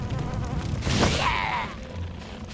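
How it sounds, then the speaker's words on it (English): A mosquito swarm buzzes from a nest in a hallway in the video game Kameo: Elements of Power, a steady drone with a rising whine and a brief impact in the middle. "This little hallway here has a mosquito nest"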